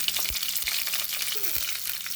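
Garlic and onion sizzling in hot oil with mustard seeds, fenugreek and curry leaves, a bright continuous frying hiss with a few soft clinks, short and close, with no talk.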